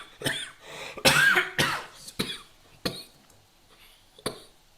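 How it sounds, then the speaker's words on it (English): A person coughs repeatedly during a software engineering lecture, several sharp hacking bursts spaced irregularly, close and loud in an otherwise quiet room. "So hey, COVID has coughing."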